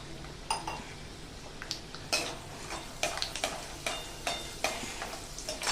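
Peanuts fry in hot oil in a pan, a soft sizzle broken by repeated scraping stirs and light clinks of a spoon against the metal, close and fairly quiet.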